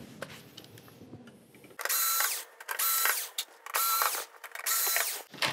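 Screws being driven out of a board inside a VIZIO E60-E3 television with a power screwdriver: four or five loud whirring bursts of about half a second each, close up, separated by brief pauses, with quiet handling beforehand.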